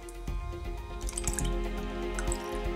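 Film developer is poured from a growler jug into a developing tank, producing a soft trickling and dripping with small clinks close by, fairly quiet over a steady background hum.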